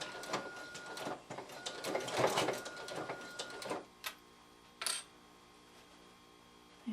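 A sewing machine runs a straight stitch along quilt binding, giving a rapid rattling burst for several seconds, then stopping, followed by a couple of short isolated clicks.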